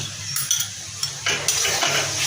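A spice paste of cumin, ginger and chilli fries in a pan, with soft sizzling beneath intermittent scraping and stirring clatter from a utensil against the pan; no voices.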